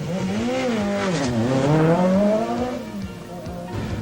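A Ford RS200 four-wheel-drive Group B rally car, at the 1986 24 Hours of Ypres rally, pulls away from the start with a loud engine revving and climbing in pitch, then easing off.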